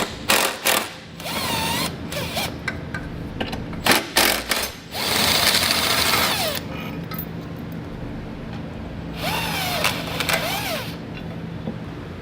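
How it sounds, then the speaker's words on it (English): Power tool with a 17mm socket backing out tow hook bolts on a 2016 Toyota Highlander, heard as several short, close whirring bursts separated by pauses. "So we'll need to use a 17mm socket and take the 2 bolts out in order to remove it."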